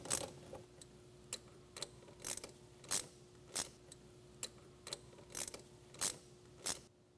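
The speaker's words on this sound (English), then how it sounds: "We're gonna wanna loosen all these clamps." Hose clamps on an air intake boot leading to a throttle body being loosened by hand tool, giving about eleven evenly spaced sharp clicks like a ratchet, close and fairly loud over a faint steady hum, with no talk.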